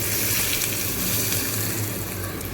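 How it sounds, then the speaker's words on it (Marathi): Loud, steady sizzle of cumin, sesame seeds and green and red chillies frying in hot oil in a pan for tempering, a dense crackling hiss with no talking. "चटणीला तडका किंवा फोडणी देणार आहोत त्यासाठी पॅनमध्ये तेल जिरे तीळ हिरवी मिरची"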